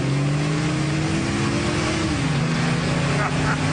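Custom-built King Cobra-style sports car engine pulling hard under acceleration, a loud, continuous close-up roar whose pitch shifts midway, with voices talking over it.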